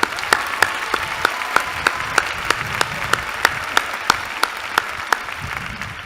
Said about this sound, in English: So please applaud all of our Mike's Award winners.